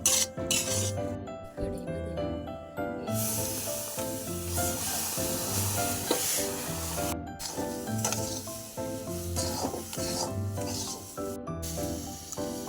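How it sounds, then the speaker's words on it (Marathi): Semolina roasts in a pan while being stirred, giving a continuous dry scraping and gentle sizzle with rhythmic strokes of the spoon, close and moderately loud, and soft music playing beneath. "आता रवा लालसर होस तोपर्यंत भाजून घ्यायचा."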